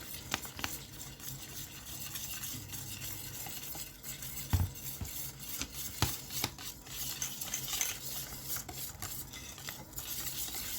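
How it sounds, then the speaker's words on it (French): Milk is poured into gluten-free, lactose-free crêpe batter and whisked in a bowl, a quiet continuous stirring swish with occasional utensil taps against the side. "Et on va faire couler délicatement le lait et mélanger."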